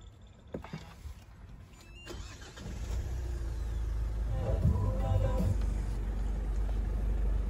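A Kia Carens 1.5 diesel manual engine turns over and catches, building into a low, steady idle after a few faint clicks and mechanical whirs.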